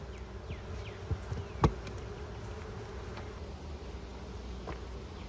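Honey bees buzz steadily around a hopping beehive fitted with a vented top and honey supers. The drone is continuous and moderate, with a few sharper close passes and a brief bump near the start. No voices are heard.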